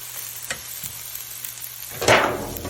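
Peppers for a Philly cheesesteak cook in a covered pan with a low steady sizzle, ending in a louder burst of frying near the end, with no talking.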